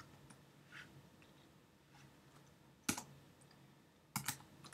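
Computer keyboard typing during a Minecraft game session: faint scattered taps at first, then two loud, sharp bursts of keystrokes against quiet background noise.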